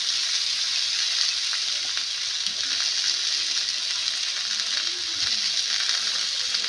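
Potatoes and ridge gourd fry with spices in a pan, giving a steady, even sizzle throughout with faint stirring scrapes, close and continuous, with no talking.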